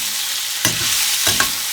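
Kangaroo meat stir-fries in a hot wok under a constant sizzle, broken by two or three quick scrapes of a metal wok spatula.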